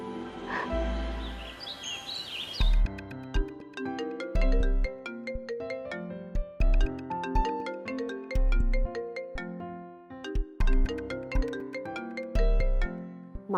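A mobile phone rings with an incoming call from mom, playing a melodic ringtone with chirpy, bird-like notes and a repeating chime pattern, loud and close, with no talking over it.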